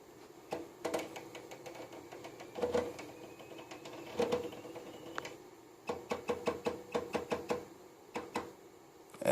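Sewing machine running straight-line stitching, quiet rapid mechanical clatter in short bursts separated by brief pauses, with a final burst near the end.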